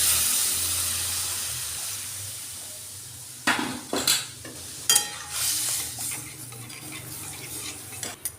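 Thickened, pre-boiled milk poured into a sizzling pot of grated carrot for carrot payesh, a steady frying hiss followed by several short clattering bursts of pouring and stirring near the pot.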